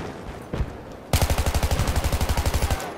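Gunfire in a Battlefield 3 multiplayer match: a couple of distant single shots, then a loud, close automatic burst of about twenty rapid, evenly spaced rounds lasting over a second.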